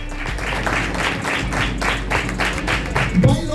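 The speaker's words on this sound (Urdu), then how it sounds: "زوردار تالیاں ماؤں کے لیے" A church congregation at a Mother's Day sermon gives steady, loud applause for mothers, a dense patter of many hands clapping continuously throughout.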